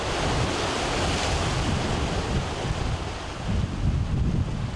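Ocean waves break and surge on the shore at Fekruna Bay, Malta, in a loud, continuous wash of surf. Gusting wind buffets the microphone throughout.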